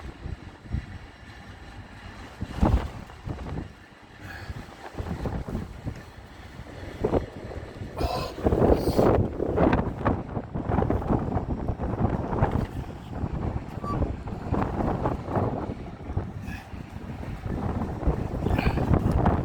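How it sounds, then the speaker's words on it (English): Strong gusting wind buffets a raised car hood on an open New Mexico road between Watrous and Clayton, roaring steadily and loudly close to the microphone with rising gusts, no voices. "When the wind slows down a little bit, I can get out."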